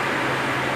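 An electric fan running in a room gives a steady, even whoosh of broadband air noise, close and unbroken, with no voices over it in this brief moment.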